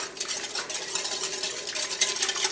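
A whisk beats egg, milk and sugar in a bowl in quick, repeated scraping and clinking strokes, a close and continuous rhythmic stirring with no talk.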